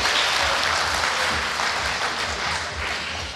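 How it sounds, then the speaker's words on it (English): Sustained audience applause for a speaker at an evening talk at EMF Camp, a dense, steady wash of clapping filling the room from start to finish without a break. "I like to think you're clapping me and not the sex robots."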